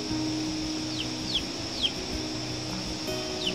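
Chickens cluck and chirp softly at a distance over a steady background hum, with a few brief high calls scattered through.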